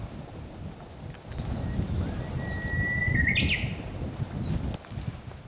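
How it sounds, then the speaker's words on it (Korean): A brief bird call rings out once in a pine forest on a Korean island, over gusty wind noise and a low outdoor rumble. "여기 새소리 네. 들으면 정말 좋네요."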